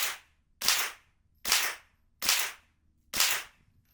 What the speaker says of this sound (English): that is 5 rounds of supersonic ammo